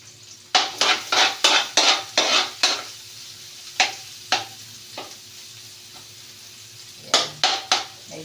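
Garlic sautéing in a pan in a small home kitchen, with a steady low sizzle under bursts of scraping and stirring, first in a quick run of strokes, then a few spaced ones, then a final quick cluster.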